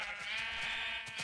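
Sheep bleat on a farm in a Minecraft-style game, a steady, quiet, wavering bleat with a brief second call near the end.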